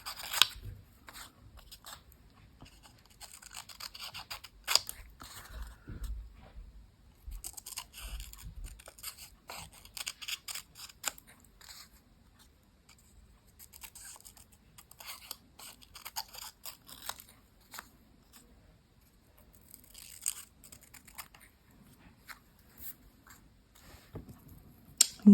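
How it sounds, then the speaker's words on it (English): Scissors snipping out a small paper crown for an altered playing card craft, with quiet, irregular crisp cuts and crunchy paper rustles spread across the whole stretch, close and soft with no talking. "And of course we'll cut out his crown."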